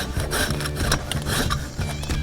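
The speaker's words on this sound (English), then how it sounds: "Then we're gonna zest 1 lime in there as well." Lime being zested over a bowl, a fast repeated rasping scrape close to the ear, loud and rhythmic with short strokes and no voices.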